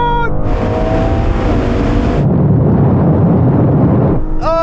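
A BMW M2 Competition, Audi RS3, Mercedes-AMG A45S and Porsche 718 Boxster GTS in a half-mile rolling drag race from 50 mph: loud, sustained engine roar under hard acceleration, with a brief shift in tone partway through.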